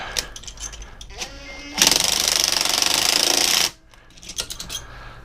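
A loud, harsh power drill whines at full speed for about two seconds while working on the head studs of a Suzuki GS650G, then cuts off abruptly, with quieter clattering and handling noises before and after.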